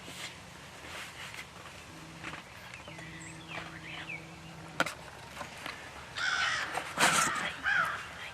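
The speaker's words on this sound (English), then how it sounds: "The crows are out there now, crowing at the dead tom." Crows caw in loud harsh bursts near the end over a dead wild turkey, after quieter calls and outdoor background noise, with a faint low hum earlier.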